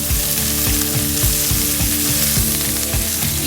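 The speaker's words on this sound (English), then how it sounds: "This is where we are searing off essentially some of the sugars in the meat" Bone-in beef ribs or chuck roast sear in a hot pan with a loud, continuous sizzle and crackle, overlaid with faint rhythmic scraping or ticking.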